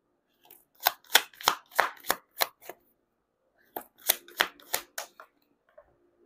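Cards are shuffled in two quick rhythmic runs of sharp, snapping riffles, close and crisp, with a pause between the bursts.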